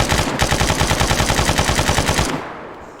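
Machine gun in the video game Arma 3 fires a sustained, rapid, loud burst of evenly spaced shots close by, then cuts off and trails into a fading echo.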